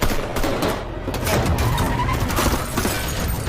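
Gunfire in a film scene where a robber opens fire on a man: a dense, continuous barrage of loud overlapping shots and sharp cracks, with no speech.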